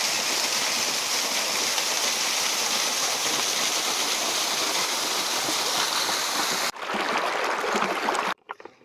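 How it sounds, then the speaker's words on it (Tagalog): A continuous rushing roar of a waterfall and the river below it, steady and loud, cutting off abruptly near the end. "nandyan yung falls dun sa baba, ilog na yun"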